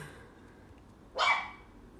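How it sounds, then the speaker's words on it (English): A single short bark from one of two young puppies still learning to bark, rising sharply and fading within half a second against a quiet room background. "I got two new puppies. They're just learning how to bark."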